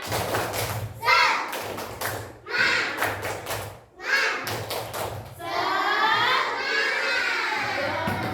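Children in an Indonesian classroom clap a rhythmic 'tepuk semangat' chant, bursts of loud group clapping in patterned beats alternating with their shouted chanting voices, ending in a sustained cheer.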